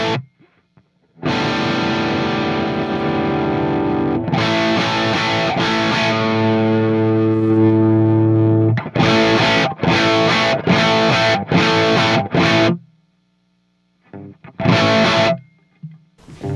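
Electric guitar played through an Aphex J-Pre 500 series preamp with a Jensen transformer, starting with a long distorted sustained chord, then a run of short choppy stabs separated by brief silences.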